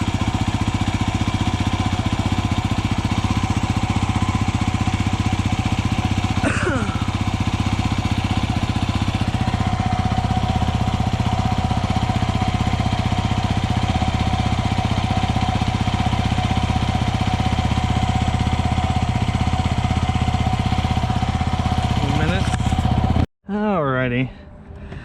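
A Yamaha WR250R motorcycle engine idles steadily and close by for a long stretch, with a brief pitch sweep now and then and an abrupt cutoff near the end.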